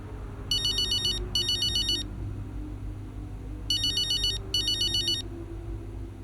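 A phone ringtone chirps in two short double bursts of electronic trills, a pause between them, inside the F1 25 racing game's Braking Point story mode, over a steady low background hum.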